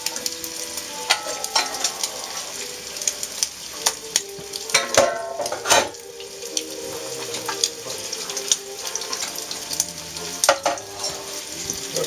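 Italian sausage frying in a pan for a sausage and broccoli pasta, a light crackling sizzle under repeated sharp scraping and stirring clatters of a utensil against the pan, with no talk.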